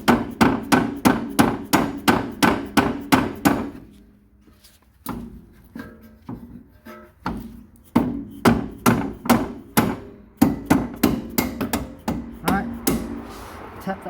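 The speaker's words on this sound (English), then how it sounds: "tap that bolt in" A hammer taps a bolt into place on a Honda Integra DC4 being lowered, with quick series of sharp, loud metallic strikes, a short quieter pause with lighter knocks, then another fast burst of blows.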